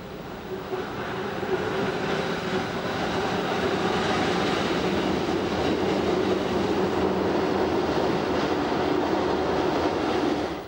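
An Appenzell Railways rack railway train descends a steep gradient toward St. Gallen with a loud, steady rumble and rattle of wheels and rack gear, building in the first second and then holding throughout.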